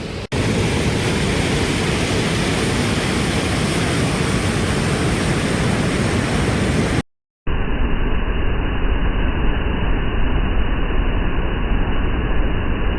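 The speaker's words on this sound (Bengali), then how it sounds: "এবার যে জলটা বেরোচ্ছে সেটার একটা ঝলক দেখো, কীভাবে কত ফোর্সে জলটা বেরোচ্ছে।" Water gushes with great force from open dam or barrage gates, a loud, steady broadband roar that continues throughout with a brief cut partway through and no one speaking.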